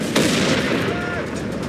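Gunfire from the WWII strategy game Company of Heroes 3 in its North Africa setting: a sharp shot up front, then a steady rumble of combat noise, with a voice speaking over it.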